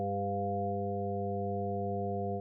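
Several steady sine tones sounding together, including a 700 hertz tone, forming one constant, unchanging electronic chord that holds evenly and then cuts off abruptly.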